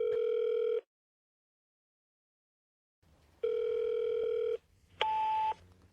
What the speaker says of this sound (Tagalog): Mia, sagutin mo ang telepono.